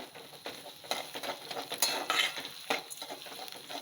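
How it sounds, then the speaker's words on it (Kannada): Ginger and crushed garlic fry in a pan for mango chitranna, with a soft sizzle under repeated close spatula stirs and light metallic clinks. "ಇದೆಲ್ಲ ಸ್ವಲ್ಪ ಫ್ರೈ ಮಾಡ್ಕೊಳ್ಳೋಣ"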